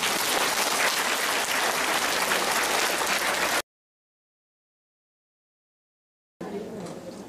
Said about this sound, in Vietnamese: Xin quý vị một tràng pháo tay nữa.